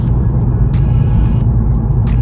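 A Volkswagen Scirocco R on the move heard from the cabin, a loud, close low rumble of engine and road noise with brief airy hisses breaking in at intervals.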